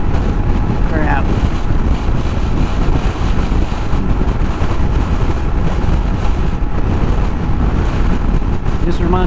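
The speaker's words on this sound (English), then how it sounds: "We hit wind like this." Strong wind buffets a microphone on an open road ride, a loud, constant roaring rush with gusty fluctuations filling the whole stretch, and a brief voice or whistle near the start.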